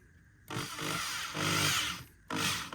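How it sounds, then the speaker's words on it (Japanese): A power drill whirs in three bursts, its bit slipping and spinning freely in place at high speed while failing to drive a screw, with short pauses between runs. "やっぱりこのドリルのパワーが足りないのか、この先っぽが弱いのか"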